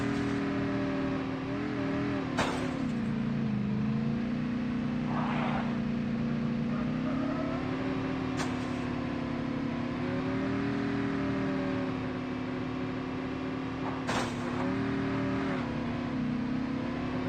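Vehicle driving in the Call of Duty Mobile battle royale, a steady droning engine tone that rises and falls slightly with speed, with occasional sharp ticks over it, no voices.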